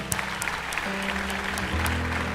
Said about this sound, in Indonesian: Sebelumnya boleh tepuk tangan dan semangat untuk kedua wanita hebat ini.